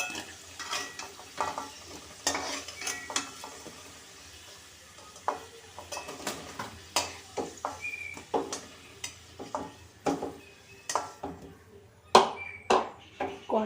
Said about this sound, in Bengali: কড়াইয়ে যে তেলটুকু রয়েছে তার মধ্যে আমি এই ওলটা যে বয়েল করে রেখেছিলাম সেই ওলটা দিয়ে দিলাম।